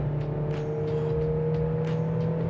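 A GAC GS3 compact SUV is driven at full throttle, its engine note droning steadily with a strong low rumble and a sustained rising tone inside the cabin, with no talk over it.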